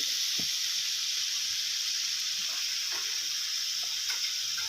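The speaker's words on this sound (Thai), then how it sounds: "ทำการผัดไปเลยนะครับ" Shiitake mushrooms stir-fry in a hot pan, a steady loud sizzle and hiss with a few faint scrapes and taps of the utensil as they are tossed.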